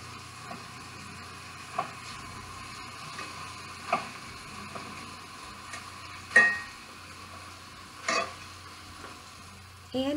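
Chicken tenders fry in a pan with a soft, steady sizzle, broken by a few sharp scrapes and taps as they are checked and turned.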